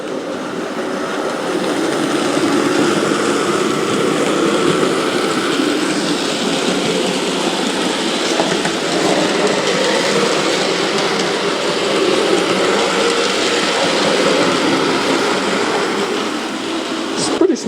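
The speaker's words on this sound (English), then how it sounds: "Smooth runner. For a Bachmann engine, it's pretty smooth." A Bachmann model train engine runs steadily along a model railway layout, a continuous close whirring rumble of motor and wheels that keeps going throughout, with people talking quietly over it at times.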